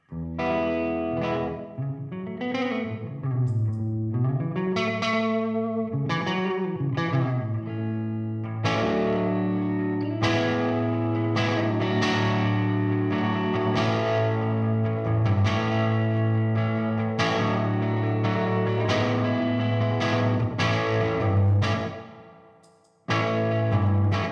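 A Gibson ES-335 electric guitar through an always-on boost pedal plays driven, slightly distorted riffs and sustained chords with a thick, boosted tone, loud and up front, ending with a brief drop-off.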